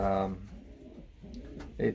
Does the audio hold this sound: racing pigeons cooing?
yes